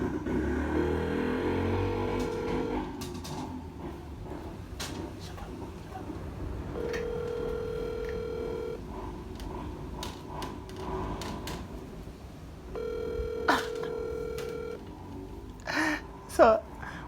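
A voice call rings out as repeated long ringback tones, three separate bursts spaced several seconds apart. Faint voices and background noise run underneath, with a few clicks near the end.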